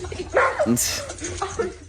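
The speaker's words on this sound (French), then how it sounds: "Regarde, le chien il en peut plus." Excited dog with a giant toy, giving short whimpering yips and snuffly vocal bursts up close, mixed with people chattering around it.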